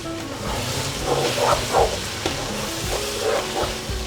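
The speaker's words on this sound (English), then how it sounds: "Get all them ingredients mixing nicely in there" Ingredients for chicken biryani are stirred in a sizzling pan over lowered heat, with a steady fry hiss under soft scraping strokes, close up and continuous.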